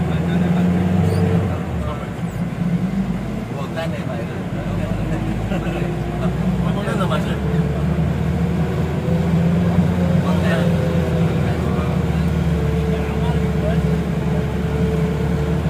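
The steady, labouring drone of an Isuzu Elf van engine climbing a steep hill in second gear, continuous and fairly loud, with people talking over it.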